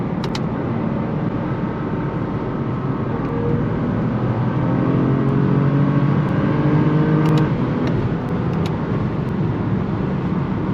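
A tuned BMW F80 M3 pulling hard, its engine drone loud and steady as revs climb through the gears from inside the cabin, with a few faint clicks late on.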